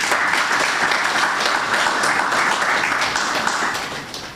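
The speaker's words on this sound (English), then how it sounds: "I think that merits a round of applause." Sustained applause from an audience at an investiture ceremony, dense and steady clapping throughout, fairly loud and close, tapering slightly at the end.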